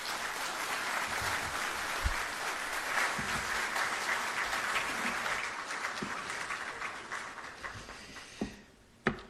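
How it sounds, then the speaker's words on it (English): A large crowd at a Ghanaian chief justice swearing-in ceremony gives the President sustained, dense applause that stays loud for several seconds, then thins and fades out into a few scattered claps. "I believe we can do another big round of applause for His Excellency the President"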